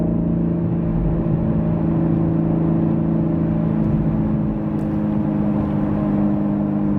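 A BMW M850 xDrive under hard acceleration, its engine giving a steady, loud droning rumble heard from inside the car, sustained and even with little change in pitch.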